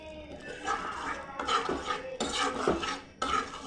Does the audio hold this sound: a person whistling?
no